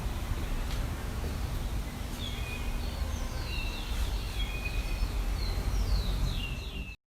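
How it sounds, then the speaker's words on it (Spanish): Birds chirp and sing faintly in the distance, short high calls repeating over a steady low background hum, mostly in the second half. "Los sonidos de la naturaleza, como el canto de las aves, inducen estados emocionales positivos"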